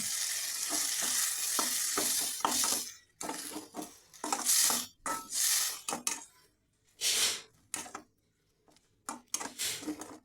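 Khichuri spices are sautéed with a little water in a pan, loud bursts of sizzling broken by rhythmic scraping stirs and short quiet gaps.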